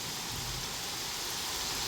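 Heavy, continuous downpour pours steadily with a dense, even hiss, driven by strong winds, with no break or voices.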